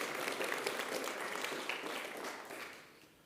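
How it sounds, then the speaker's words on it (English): Audience applause at a tech product event rolls on steadily as a dense wash of clapping, then fades toward the end. "another round of applause for our UK team who are here tonight"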